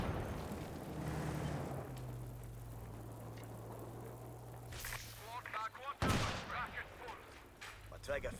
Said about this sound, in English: These infantry support guns, they are getting some good hits in.